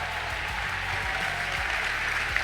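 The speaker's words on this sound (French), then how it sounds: "give the Living Waters a big hand one more time" Audience applause at a church conference for the Living Waters, steady clapping over a low sustained musical hum.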